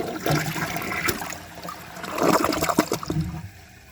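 A Project Source Pro dual flush toilet flushes with a steady rush of water building to a louder gurgling swirl, then trickling off near the end, close by with no talk.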